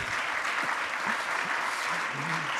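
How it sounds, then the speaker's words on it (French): Dense, steady applause from a crowd after a film screening at a conference, continuous clapping throughout. "Oui, on peut applaudir ce film."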